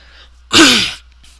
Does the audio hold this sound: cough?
yes